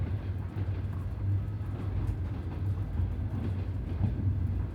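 A train rolls steadily along rails, a continuous low rumble with faint rhythmic clatter from the wheels, close and unbroken throughout with no voices.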